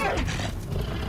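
A tiger in the video game Far Cry Primal gives a brief, loud, rough roar that fills the whole moment with steady growling force.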